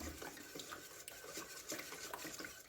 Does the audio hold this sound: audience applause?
no